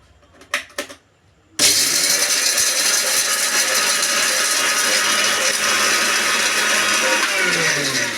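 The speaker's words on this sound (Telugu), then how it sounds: "వెల్లుల్లి రెబ్బలు వేసి ఫస్ట్ వీటిని మిక్సీ పట్టుకోవాలి" After a few brief knocks, a mixer grinder starts abruptly to blend garlic cloves, a loud whirring roar that stays steady and close to the end.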